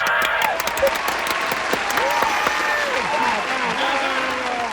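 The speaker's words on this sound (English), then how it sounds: "Let's give them a round of applause." Applause and cheering from a crowd fill a few seconds, with excited voices and whoops rising over the steady clapping.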